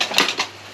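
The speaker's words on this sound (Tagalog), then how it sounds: "Haluin natin itong noodles." Utensil scraping and clinking through pancit noodles in a pan, a few quick metallic rattles and scrapes close up, with no talking.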